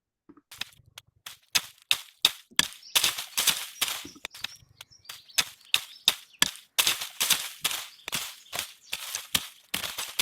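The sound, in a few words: hitting dry leaves, played sound clip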